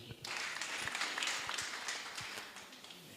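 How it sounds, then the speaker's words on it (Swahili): A church congregation at a Pentecostal Assemblies of God service claps together, producing a steady, broad wash of applause that runs through the whole moment at moderate volume, with a few scattered voices underneath. "pigia makofi"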